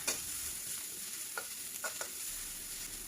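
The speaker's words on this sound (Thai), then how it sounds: "แล้วก็นำพริกและกระเทียมเนี่ยลงไปผัดเลยค่ะ" Chili and garlic stir-frying in hot oil in a wok, a steady bright sizzle with a few sharp spatula scrapes and ticks, close and continuous with no voices.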